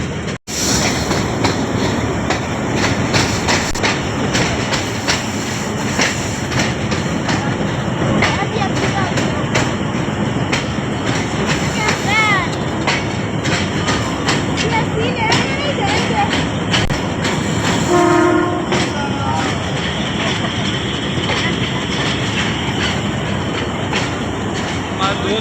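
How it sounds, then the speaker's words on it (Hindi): A train rolls through Taxila railway station in Pakistan, its loud continuous rumble and clickety-clack of wheels on rails filling the whole stretch, with brief wheel squeals and people talking faintly underneath. "ट्रेन जाने वाली है"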